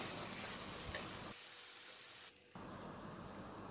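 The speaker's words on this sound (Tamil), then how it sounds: "நல்லா வதக்கி விடுங்க." Sliced okra sautés in a pan, giving a faint, continuous sizzle and crackle that drops away briefly in the middle as the pan is stirred, then resumes.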